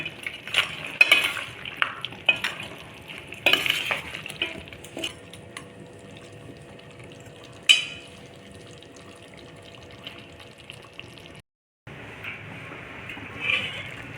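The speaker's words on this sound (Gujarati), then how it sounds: "આ મુઠિયાને ઊંધિયામાં નાખી મિક્સ કરી દેશું" A spoon scrapes and clatters against a pan as fried muthiya dumplings are mixed into Surti undhiyu, with intermittent knocks, soft stirring rustles and a faint background hum, no voices.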